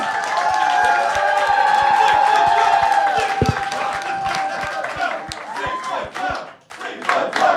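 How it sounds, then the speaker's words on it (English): An audience claps and cheers for the winner of a ringside roast, a dense, sustained wash of applause and shouts that thins out near the end before swelling again. "Clap it up right now for Ben."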